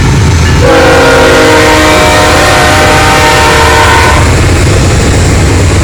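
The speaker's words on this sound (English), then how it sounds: "That train driving by itself." A train rumbles past nearby, its loud, steady horn-like tone sustained for several seconds before fading into the lingering roar of the cars.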